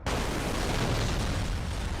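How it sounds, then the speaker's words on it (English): A loud, dense burst of explosion noise from the racing video game Burnout 3: Takedown, striking abruptly and then roaring on as sustained crashing rumble for about two seconds. "No, I can't believe the explosion cucked me."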